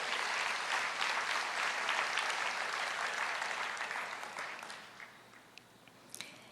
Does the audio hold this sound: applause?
yes